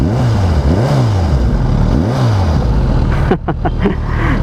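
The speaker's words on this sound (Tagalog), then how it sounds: "And this is our stock exhaust." Suzuki GSX-S1000 naked-sport motorcycle with its stock exhaust, revved close up in repeated rising and falling throttle blips, then a few sharp short bursts near the end.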